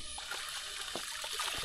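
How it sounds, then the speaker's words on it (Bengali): Stream water splashes and trickles as hands and face are washed outdoors at a forest sanctuary trail, with soft intermittent splatters over a steady flowing hiss. "এখানে এসে হাত মুখ ধুয়ে নিলাম"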